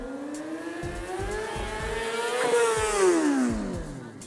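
A stunt motorcycle engine revs hard as the rider pops the clutch for a wheelie. The pitch climbs, peaks, then sinks again, close and loud, with rapid throttle blips underneath and no talking.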